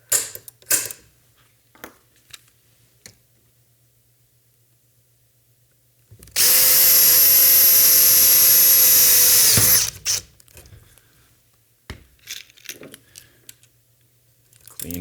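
A power riveter whirs in one continuous burst of about three seconds, loud and steady, between stretches of quiet handling clicks and taps.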